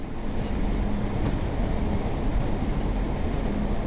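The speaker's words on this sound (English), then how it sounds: "We'll shut down this train." Class 142 Pacer diesel railbus in a train simulator game, its engine rumble running steadily and fairly loud with rail-type noise throughout as it is shut down, no voices.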